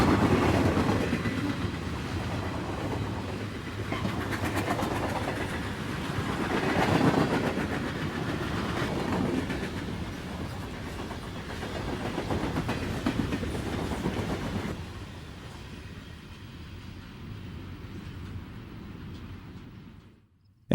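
A westbound CSX freight train on the Magnolia Cut Off in 1992, with two former Western Maryland F units in tow behind the lead power, rolls past steadily with a rumbling, clattering wheel noise that fades near the end.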